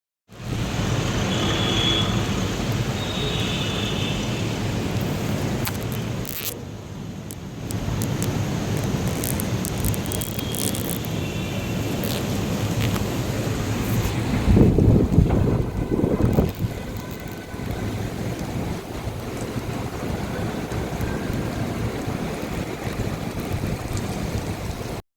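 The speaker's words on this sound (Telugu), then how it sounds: "వర్షం బాగా పడిందా అంటే కొంచెం పెద్దదే పడింది" Steady heavy rain rushing down outdoors, with gusts of wind buffeting the microphone partway through.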